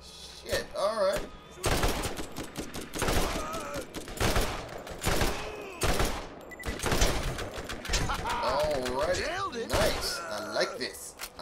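Rapid bursts of weapon fire in the Borderlands shooter game, repeated sharp cracks in quick clusters spread across the span, with someone talking over and between the volleys.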